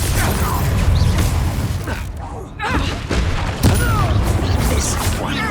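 Confringo fire spell cast in the Hogwarts Legacy video game, heard as a burst of booming, crackling blasts with mechanical game effects, set under a voice speaking and continuing through the clip.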